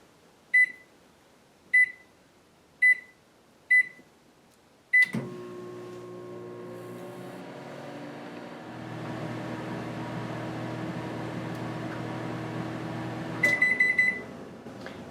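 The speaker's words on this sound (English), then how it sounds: "Put the bowl into the microwave and cook on high for 7 minutes." Four keypad beeps, then a microwave oven starts and hums steadily for several seconds before a final burst of beeps near the end.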